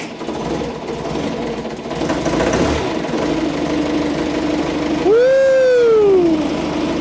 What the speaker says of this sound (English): We did get the tractor started. It's running like you guys saw.